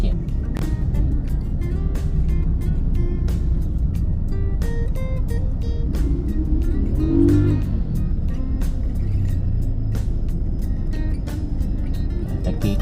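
Road traffic crawls in a jam with motorcycles close by, a dense rumble of engines under a voice speaking, with repeated sharp ticks and a swell of engine noise near the middle.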